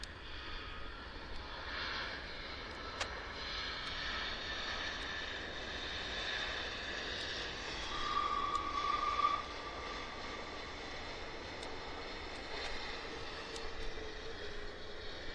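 A fixed-wing airliner arriving at Vancouver Airport from Los Angeles gives a steady, sustained engine roar at moderate distance, swelling slightly partway through, with no talking.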